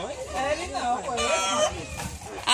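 A rooster crows loudly and close by, its long wavering call mixed with clucking hens on a farm while someone tries to catch the bird, with people talking underneath.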